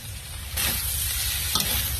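Chicken, kikiam and bean sprouts fry in a pan with a loud, continuous sizzle, brightening as a new ingredient lands partway through, with a scrape of stirring near the end.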